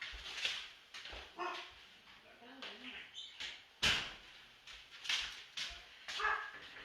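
A pet dog excited by a home delivery barks in a string of sharp, irregular yaps and bursts, fairly close, mixed with a door sliding and a person talking quietly underneath.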